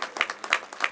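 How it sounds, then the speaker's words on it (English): A small group at a sports summit inauguration claps briefly, a few loose, uneven bursts of applause heard close and fairly quiet. "we just all need to give a very big round of applause to Vishwanath sir as well"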